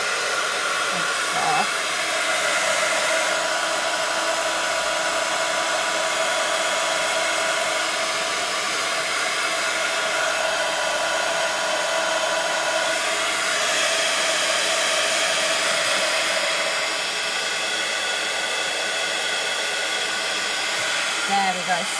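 A hair dryer blasts steadily at close range over a freshly stamped journal page for about twenty seconds, a constant loud whooshing roar with a brief spoken word near the start.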